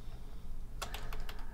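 A computer keyboard is typed on briefly while a comment is entered, giving a short quick run of faint close clicks after a moment of quiet room hum.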